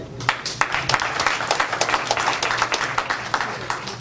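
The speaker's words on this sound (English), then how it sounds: "I think we deserve a round of applause" A crowd applauds steadily throughout, dense overlapping claps at moderate loudness with no pauses, following a call to celebrate a group's long journey together.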